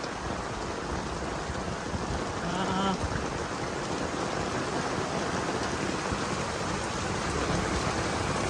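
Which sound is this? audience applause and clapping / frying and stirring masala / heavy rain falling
heavy rain falling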